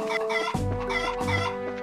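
Chickens cluck in the video game Trails in the Sky FC, a few close, bright clucks over a sustained background tone, no talking.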